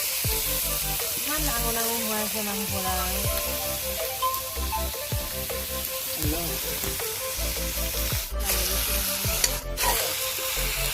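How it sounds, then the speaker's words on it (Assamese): Meat cooking in a pan over an open fire gives a steady, loud sizzle and frying crackle throughout, with faint voices in the background. "এই মাংস বনাই আছে আমাৰ ইয়াৰ মাংস দি আছে"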